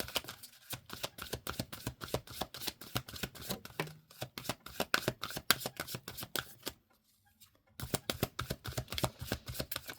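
Tarot cards shuffled and drawn in quick rapid riffling bursts, close and crisp, with a brief pause near the end before the shuffling resumes.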